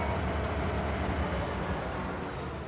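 A log train in Farming Simulator 25 rumbles steadily in a snowy winter setting, a dense low mechanical drone with broad noise that holds evenly and fades slightly at the end.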